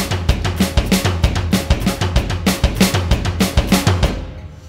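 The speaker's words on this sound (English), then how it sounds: "you can do the same pattern with the feet, but alternate between right-left and left-right sticking with the hands" A drum kit plays a fast, driving pattern: the feet keep a steady pulse while the hands alternate between right-left and left-right sticking. The hits are close, loud and tightly rhythmic for several seconds, then stop abruptly.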